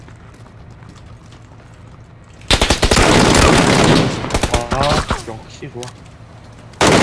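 Gunfire in the battle royale game PUBG (Battlegrounds): a loud, rapid automatic burst runs for a second or two, trails into a few spaced shots, then one more blast starts at the end, with a player's voice talking over it.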